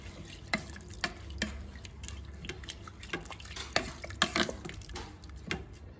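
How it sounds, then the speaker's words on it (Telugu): Basmati rice stirred inside a Geek Robocook electric pressure cooker pot, soft irregular scrapes and light clinks of a spoon against the pot, quiet and close. "ఒకసారి కలుపుకుందాం."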